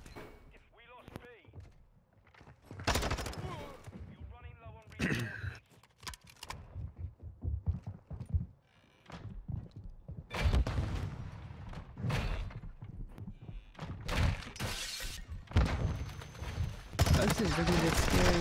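Gunfire in a competitive shooter game, with repeated bursts of shots and thuds at close range, some loud and some farther off, mixed in with players talking throughout.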